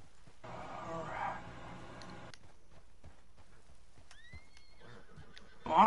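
A big horse clip-clops steadily on its hooves and lets out a clear whinny partway through, with a louder rustling burst at the end.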